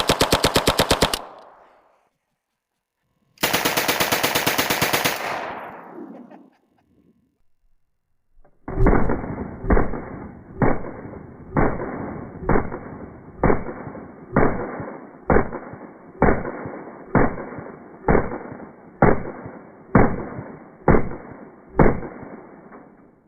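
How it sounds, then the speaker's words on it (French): PPS-43 submachine gun firing in burst mode, with two loud ripping bursts followed by a steady run of about fifteen sharp, evenly spaced shots, close and dominant. "C'est l'heure de mon préféré, le PPS 43. C'est parti, en mode rafale."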